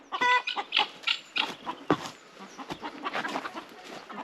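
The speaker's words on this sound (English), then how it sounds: "Guinea fowls are all there." Young guinea fowl on a farm call in a run of sharp, clucking cries, several birds close by and fairly loud, with overlapping squawks that thin toward the end.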